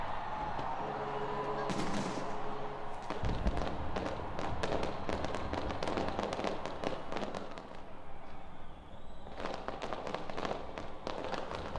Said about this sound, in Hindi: लोगों ने ढोल नगाड़ों के साथ आतिशबाजी की।